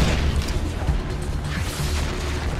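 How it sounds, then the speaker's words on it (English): A Far Cry 4 game explosion booms low and heavy, with a dense rumbling roar that stays loud for the whole stretch, along with some mechanical clatter. "Another explosion."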